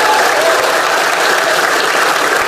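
Dense, loud applause and cheering from a crowd at a rap battle, a steady wash of clapping with no breaks throughout.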